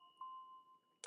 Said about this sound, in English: here's the Noah Bell.